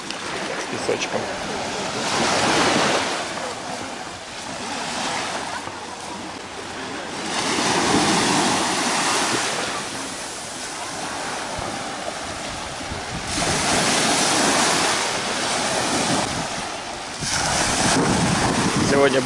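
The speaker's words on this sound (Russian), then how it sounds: "Сегодня бушующее море." Rough, stormy sea waves break on a sandy Mallorca beach in surging, rising and falling washes of surf, with wind buffeting the microphone throughout.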